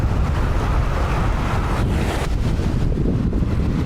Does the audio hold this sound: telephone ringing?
no